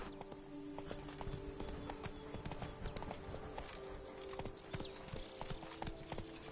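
Hooves clip-clop in a fast, steady gallop as a horse runs in the video game The Witcher: Wild Hunt, moderately loud over a constant background bed.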